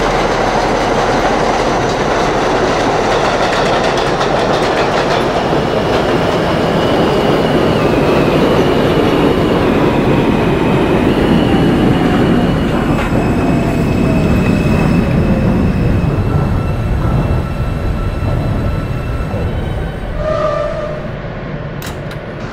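A New York subway R160 F train in the game Hmmsim 2 rumbling along the tracks at 57th Street with steady clatter and occasional squealing wheels, loud and continuous, slowing slightly near the end.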